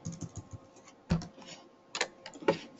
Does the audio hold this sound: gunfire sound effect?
no